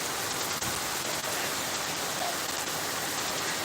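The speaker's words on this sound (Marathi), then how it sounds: "अतिशय मुसळधार पाऊस आमच्या संभाजीनगर जिल्ह्यामध्ये चालू आहे" Heavy monsoon downpour in Bidkin, Chhatrapati Sambhajinagar district, a dense, continuous broadband hiss of rain falling on surfaces, loud and unbroken with scattered faint drop impacts and no talking.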